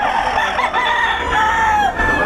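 A rooster crows loudly and continuously up close, its long strained call filling the whole moment with no voices.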